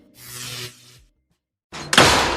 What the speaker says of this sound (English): you kids quit slamming my goddamn door